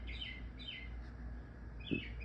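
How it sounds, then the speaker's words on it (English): A bird chirps outdoors at night, giving a few faint, short, high chirps spaced apart over a steady low background hum. "This bird out here."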